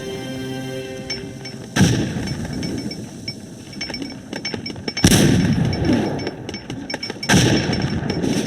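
Gunfire and artillery in the strategy video game Cossacks 2, Poland versus Russia: sharp loud volleys and booms strike at intervals over a continuous rattle of musket fire and battle noise.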